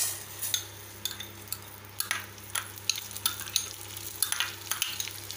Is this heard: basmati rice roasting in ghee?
yes